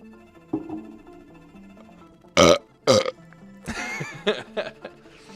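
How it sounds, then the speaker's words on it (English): A man lets out several loud burps after drinking Diet Coke, two sharp ones followed by a longer, drawn-out belch and a few shorter ones, with soft background music. "Get your burps today."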